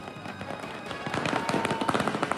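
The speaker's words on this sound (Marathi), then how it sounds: "फटाक्यांची आतिषबाजी करत जल्लोष केलेला आहे" Celebratory fireworks and firecrackers from political party workers after polling closes crackle in rapid, dense bursts, growing louder toward the end, a sharp popping barrage heard outdoors without talk.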